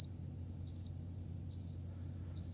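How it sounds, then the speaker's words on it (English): Three short bursts of cricket chirping, evenly spaced and fairly loud, each a quick trilled pulse over a low steady hum of background noise. "Crickets."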